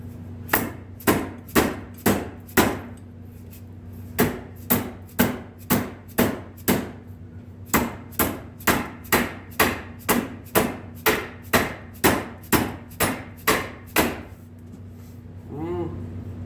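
Rubber mallet striking the axle of a Kawasaki Bayou ATV during an axle bearing replacement, a long run of evenly spaced, close, dull knocks broken by short pauses.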